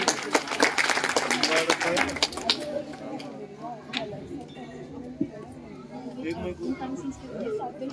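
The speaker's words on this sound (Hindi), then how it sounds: "एक बार जोरदार तालियां अभिलाषा आर्या के लिए।" Audience applause at a Republic Day award distribution programme, a burst of many hands clapping loudly in the first seconds, then fading into background chatter and voices.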